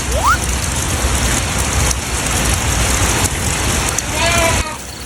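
Cartoon rain falls as a loud, steady hiss throughout, with a couple of brief whistle-like tones on top, then eases slightly at the end.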